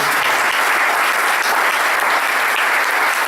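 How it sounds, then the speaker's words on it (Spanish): Steady, dense applause from an audience for the workers on site, loud and continuous with no pauses and no talking over it. "me gustaría de verdad que pudiéramos darle un aplauso a la gente que está trabajando aquí"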